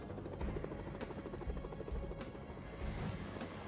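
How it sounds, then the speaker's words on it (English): A helicopter flies in the video game Operation Tango, a steady dense rotor rumble with faint thumping pulses, continuous and fairly loud throughout. "Pardon me while I escape in this helicopter."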